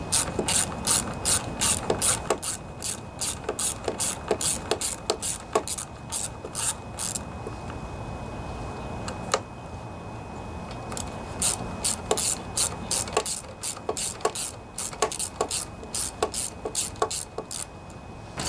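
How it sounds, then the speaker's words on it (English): A ratchet wrench with a 10mm socket loosens the carburetor bolts on a John Deere 14PB lawnmower, giving close, crisp bursts of rapid clicking separated by short pauses. "So you have two bolts on each side. This is my 10mm socket."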